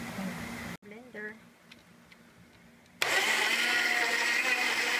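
Quiet room with a brief murmur, then a blender blending fruit and milk switches on abruptly and whirs loudly and steadily to the end.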